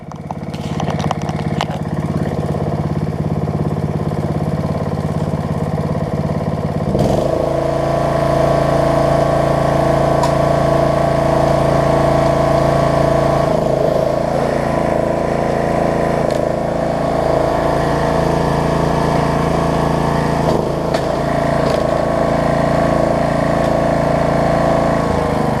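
A Snapper rear-engine riding lawn mower runs steadily and loud, its small engine holding a droning hum with a harmonic whine throughout, briefly rougher at the start before settling and shifting slightly in pitch.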